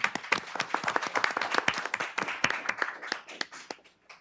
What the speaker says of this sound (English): we can clap it up for her